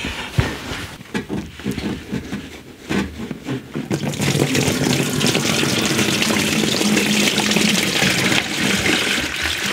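Coolant pours out of the lower radiator hose of a Peugeot 207, first as irregular splashes and gurgles, then settling into a strong, continuous close-up gush of draining liquid.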